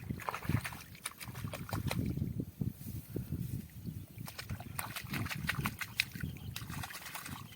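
Plant roots pulled from a field are rinsed in water outdoors, with continuous splashing and sloshing, trickles and drips, fairly close and steady throughout.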